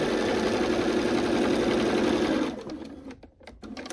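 A sewing machine stitching a quilt block runs at a fast, loud, even buzz for a couple of seconds, then stops abruptly, leaving a few faint handling clicks.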